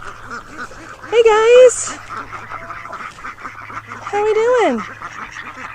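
Ducks quack in two loud bursts near a chicken coop in the evening, each a short run of harsh nasal calls, while someone talks over a steady low hum.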